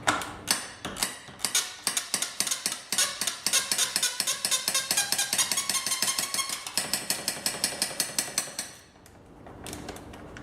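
A ratchet clicks in rapid bursts while loosening radiator fan shroud bolts on a Jeep WJ Grand Cherokee, the close metallic ticking repeating in quick runs before trailing off and ending in a couple of scattered clicks.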